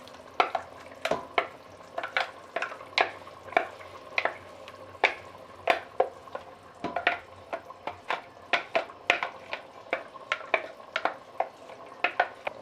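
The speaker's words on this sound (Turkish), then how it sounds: "Közlenmiş patlıcanları içine ekliyorum." Roasted eggplants are stirred into simmering tomato sauce in a pan, giving rhythmic spoon scrapes and taps about once a second over a soft sizzle, close and without voices.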